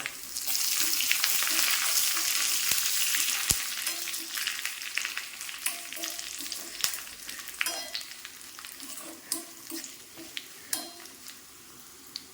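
Small shallots fried golden in hot oil, then curry leaves dropped in, sizzle loudly and steadily, and the hiss gives way to scattered clicks of a spoon stirring against the pan. No one speaks.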